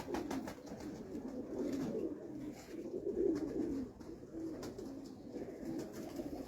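Pigeons give low, throaty coos in repeated rolling phrases, fairly quiet and close, with no talking over them.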